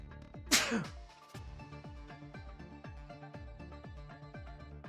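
A single sharp, close sneeze bursts out near the start, then fades under steady, rhythmic video-game music playing during Neon Abyss 2 gameplay.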